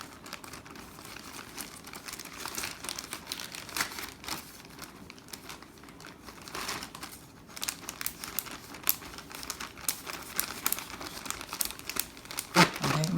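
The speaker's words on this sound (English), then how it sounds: "now you want to zip the bag of the big one" A plastic zip bag crinkles steadily for several seconds as it is handled, squeezed of air and zipped shut while making ice cream in a lab, with a close, continuous papery rustle and small crackles.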